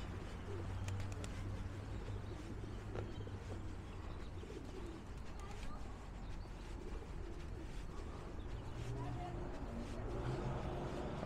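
Pigeons coo repeatedly at a pond in Yardley Wood, Birmingham. Their soft calls carry through a constant low outdoor background at moderate distance, with occasional chirps from other birds.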